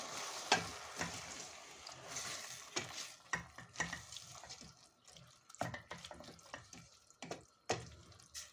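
A spoon stirs a glass of water and a dessert spoon of salt into a cooking pot of grape-leaf soup with bulgur. Quiet, irregular scrapes and clinks come with soft sloshing and a faint sizzle beneath.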